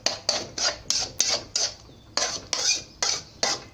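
Repeated sharp knocks of a utensil against a pan, about a dozen steady chopping strikes at close range as egg and fermented pork are chopped together, with no talking.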